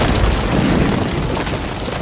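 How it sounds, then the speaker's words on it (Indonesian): A rocket explosion in a war movie battlefield scene, a loud, dense roaring boom that fills the whole clip without pause. "ia mendapat serangan roket itu yang seketika membuat ia terpental"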